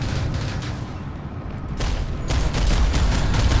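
Sustained rapid gunfire from the video game Planetside 2, dense bursts of shots and booms running continuously, loud and close, growing heavier toward the end.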